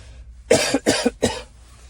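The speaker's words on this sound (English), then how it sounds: "Oh, I got a cough." Three quick, harsh coughs in close succession, loud and near, followed by quiet.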